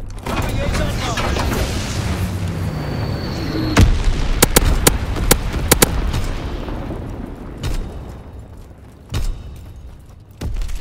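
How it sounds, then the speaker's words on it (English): Incendiary bombs from a low-altitude bomber exploding in a war video game, a dense roar of blasts with several sharp cracks and booms in the middle, then scattered later explosions, while game voices call out. "Low altitude bomber inbound. Dropping incendiary."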